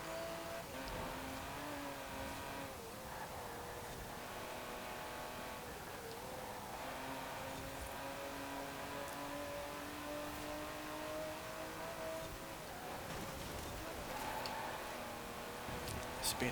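A turbocharged car in Forza Horizon 4 holds a sustained engine drone with rising and falling pitch across a street race, with commentary talking over it.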